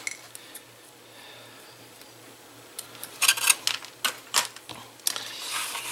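A few crisp snips and clicks of scissors cutting craft material to length for a teacher appreciation gift, sparse and close, over a quiet background hum.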